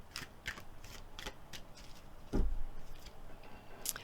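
Quiet, close-up shuffling of oracle cards: soft papery riffles and flicks in irregular bursts, with one slightly louder slap midway.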